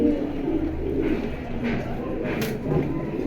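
Soft pigeon cooing sounds repeatedly in the background while people talk nearby.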